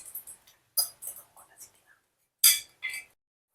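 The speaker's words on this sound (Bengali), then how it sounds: "পুরো মাংসটাকে আমি প্রেসার কুকারের মধ্যে ঢেলে দিলাম।" Mutton being tipped into a metal pressure cooker, heard as a handful of bright metallic clinks and scrapes in short separate bursts with quiet gaps between, close and fairly loud.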